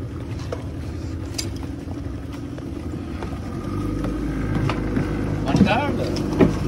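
Small water taxi boat carrying passengers on a ride in Brunei, its steady low motor drone running throughout with water wash, growing a little louder midway, while people talk nearby.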